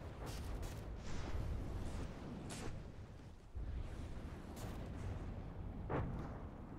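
A torpedo striking a submarine in the naval game From The Depths, heard as a dense, rumbling barrage of low booms and blasts that continues steadily throughout, with sharper impacts standing out now and then.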